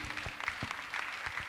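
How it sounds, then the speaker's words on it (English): An audience at an EduTech conference panel session in Abuja applauds an award-winning Nigerian teacher, a soft, fairly distant patter of clapping from a modest crowd. "Please give a round of applause for him."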